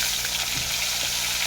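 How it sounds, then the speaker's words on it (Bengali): Katla fish pieces fry lightly in a pan of hot oil, giving a steady, close sizzling hiss that runs for the whole stretch with no voices. "একেভাবে ভেজে নেবো"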